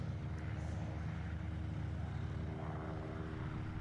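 An aerobatic propeller airplane built of tubular steel drones steadily at full throttle during an air show performance, a continuous engine roar at moderate distance with no talking.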